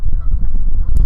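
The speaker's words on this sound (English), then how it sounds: "We got a geese fight on our hands." Geese honking loudly as they fight: a rough, continuous burst of close, harsh honks and squawks filling about a second, ending with a sharp higher cry.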